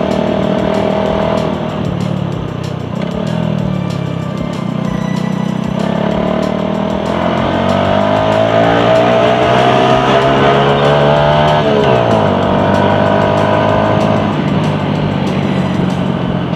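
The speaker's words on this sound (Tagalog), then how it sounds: "Grabe yung motor natin, ang gigil." A motorcycle engine revs steadily while riding on a rough, muddy road, its pitch climbing and dropping through gear changes, loud and close throughout with no talk.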